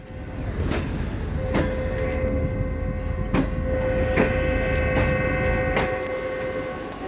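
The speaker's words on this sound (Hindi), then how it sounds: "ये जो आपने इस वक्त वेसल सुना ये GU20 का है जो कि 40 डाउन जाफर एक्सप्रेस को कोयटा ले जाने के लिए बिल्कुल तैयार है" A GU20 locomotive waiting with the Jaffar Express at Lahore Junction sounds a sustained, steady whistle lasting several seconds over the rumbling station background, with occasional sharp clanks.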